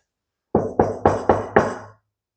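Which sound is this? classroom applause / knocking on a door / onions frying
knocking on a door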